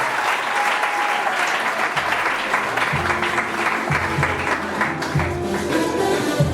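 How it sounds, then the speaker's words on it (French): Wedding guests applaud the couple during a civil ceremony at the mayor's office, steady loud clapping from a crowd with a few voices calling out over it. "On applaudit pour eux."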